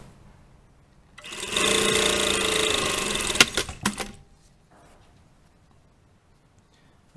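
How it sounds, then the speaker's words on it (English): A sewing machine stitches across the pocket bag of tailored shorts in one close, steady burst of about three seconds, followed by a few clicks and taps as the fabric is handled. "So now to close the pocket, we just need to lift this up here and sew this"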